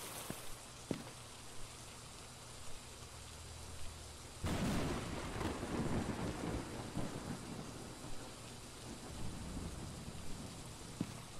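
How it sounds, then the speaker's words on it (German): Steady rain hisses throughout in a video game, and a loud crack of thunder breaks in partway, rumbling on beneath the downpour. "Oh, draußen regnet's."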